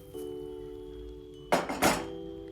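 A sticky date mixture for khajur pak is scraped out of a pan onto a metal plate, giving two close, loud metallic scrapes and clinks against a low steady kitchen hum.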